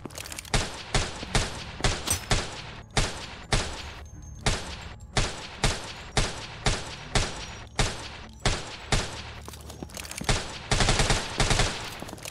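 Gunfire in the zombie survival video game Deathly Stillness: loud, close shots in short bursts and single cracks at a steady rhythm, rising to a rapid continuous volley near the end.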